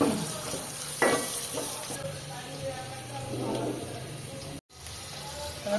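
Pulao rice fries and gets stirred in a pan with a soft, steady sizzle and occasional scraping clinks, fairly quiet, with a brief dropout near the end.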